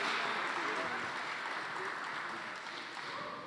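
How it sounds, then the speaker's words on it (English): Audience at a church gathering applauds the speakers with a steady, dense wash of clapping that fades slightly toward the end. "And a huge round of applause to all of the speakers here."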